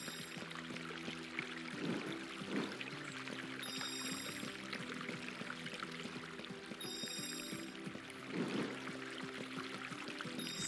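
Sewer water in Miraculous: Rise of the Sphinx flows and pours in a steady, quiet wash, with a few louder gushes above a faint hum of game music.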